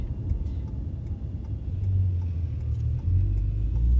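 Low steady rumble of an automatic car engine idling and pulling away at a road junction, heard from inside the car, a close, even drone that rises slightly as it accelerates.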